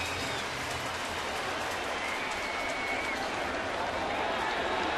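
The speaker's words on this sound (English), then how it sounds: "The crowd trying to make some noise and spur on the Yankees." A New York Yankees home crowd at a baseball game against Seattle keeps up a steady, loud roar of cheering and shouting, a continuous wash of stadium noise with no letup.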